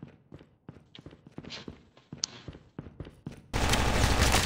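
Rapid bursts of MSMC submachine gun fire in the mobile shooter COD Mobile's battle royale mode, sharp repeated cracks in an uneven rhythm for several seconds, then a sudden loud, continuous wash of noise.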